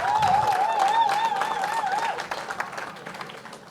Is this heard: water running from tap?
no